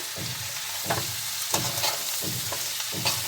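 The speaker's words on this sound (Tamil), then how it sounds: "உப்பு சேர்த்து இதை நல்லா கலந்து விட்டுட்டு" Salted food fries in a pan under a constant sizzle, with a utensil stirring in regular scraping strokes roughly every half second, close and clear.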